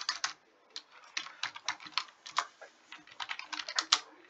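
Fingers typing code on a computer keyboard for a Roblox scripting lesson, a steady run of close, crisp key clicks in uneven bursts with short pauses, no voice.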